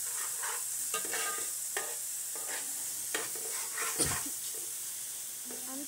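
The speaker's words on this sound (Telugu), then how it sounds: "ఇప్పుడు మొత్తాన్ని తిప్పుకోవాలి।" Fish curry masala with ginger-garlic paste being stirred in a pan, a steady scraping stir over a soft sizzle, with short repeated strokes and a louder clank near the end.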